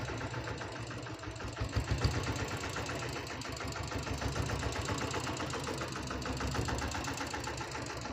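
A Royal Enfield diesel Bullet engine idles steadily with an even, knocking thump, heard up close at moderate volume for the whole stretch with no voices.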